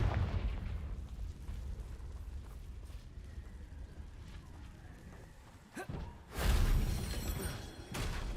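Confringo blasting spell in Hogwarts Legacy: a low rumbling bed gives way to a sharp crack and then a loud, broad explosive burst that roars for a couple of seconds before fading.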